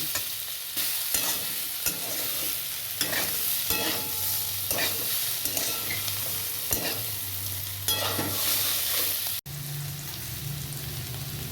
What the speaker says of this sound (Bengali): আর একটু লাল লাল করে ভেজে তারপর নামিয়ে নেব।